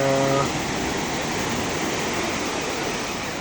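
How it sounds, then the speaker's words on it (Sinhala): Ocean waves break and wash steadily on Pasikuda beach in eastern Sri Lanka on an evening, a loud continuous roar of surf with a brief tonal sound at the very start. "ලස්සන රැල්ලකුත් එනවා"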